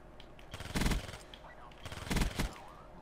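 Video game gunfire comes as two rapid bursts of loud, rattling shots about a second apart. Quieter background sounds and a voice are heard between them.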